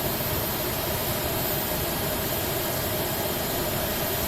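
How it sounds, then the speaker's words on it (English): Steady, unbroken engine roar of an Airbus A330 with Pratt & Whitney engines in a flight simulator, a dense broadband hum at constant level with no voices. "I'm kind of interested to see what these engines will sound like, because basically I don't think I've ever flown the Pratt & Whitneys."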